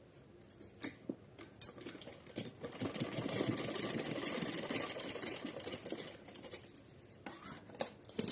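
A sewing machine stitches a small Laddu Gopal dress, running in a sustained whirring burst between shorter starts and stops, with light clicks and handling of fabric close by.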